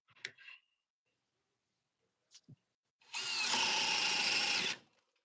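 Cordless power drill on speed 2 boring into wood with a 1 1/4 inch paddle bit, a dense whirring grind lasting under two seconds after a few brief clicks and knocks.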